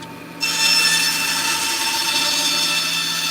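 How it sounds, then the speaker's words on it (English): Bandsaw cutting down a wooden sculpture piece to height, a steady loud rasping whine that starts abruptly after a brief quiet moment and continues evenly to the end. "I'm going to be cutting this down to just the height that I want, because I need a flatter top and less of a point"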